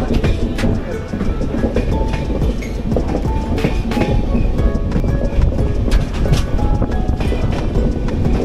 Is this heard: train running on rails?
yes